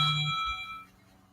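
Phone notification chime going off indoors during a painting session, a single bright ding with a short ringing decay that fades within a second.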